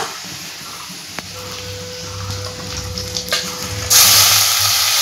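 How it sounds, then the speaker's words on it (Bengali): Ground spice paste for potol posto hits onions already fried red in a hot pan, a steady loud sizzle with stirring scrapes and a tonal hum, the frying swelling sharply louder toward the end. "বেটে রাখা মশলাগুলো দিয়ে দেব"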